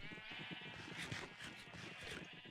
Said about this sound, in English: This is a little cow farm, and it's really, really loud.